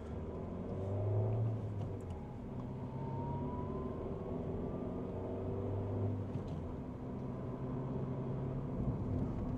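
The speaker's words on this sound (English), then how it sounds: "bit of gas, find the bite point, release the handbrake, car moves off forward" A car pulling away from the bite point on a driving test route in Winchester, heard as a faint, steady low engine drone with a gently rising tone as it moves off, with no talking.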